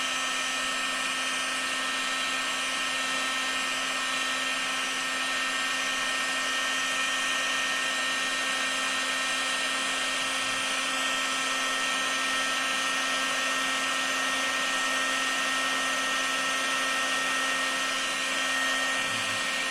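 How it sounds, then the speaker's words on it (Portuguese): A steady, loud blowing whir of a heat gun, used to develop a chromatography plate in a chemistry lab, runs continuously without pause, a constant motor hum with rushing air. "com auxílio do secador térmico"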